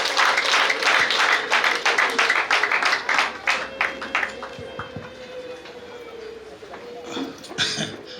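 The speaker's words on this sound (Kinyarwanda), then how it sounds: "Amashyi menshi cyane rwose." Loud applause from guests at a Rwandan gusaba and gukwa wedding ceremony, a burst of fast clapping that slowly thins out and fades, with a voice speaking over the tail end.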